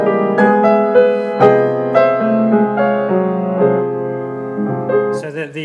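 Art song by Robin Holloway, 'I Met My Death', with piano chords moving in a darker harmonic shade, notes sustained and shifting, and a brief higher vocal-like figure entering near the end.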